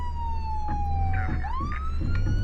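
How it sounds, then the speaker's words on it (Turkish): In the Flashing Lights emergency services simulator, a police car siren sounds loud and close, one wail sliding down and sweeping back up over a steady low engine hum. "Şu sireni falan kapatalım."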